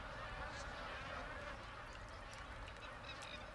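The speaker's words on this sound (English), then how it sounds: "the thousands of magpie geese that fly into Lakefield to breed" Magpie geese gather at Lakefield, their faint honks scattered over a dense, steady wash of background noise, distant and overlapping rather than distinct single calls.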